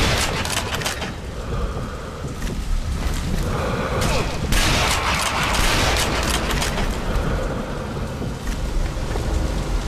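Gunfire from the zombie shooter game Sniper Elite: Nazi Zombie Army: loud, dense bursts of shots and booming impacts that keep coming with few pauses for about ten seconds.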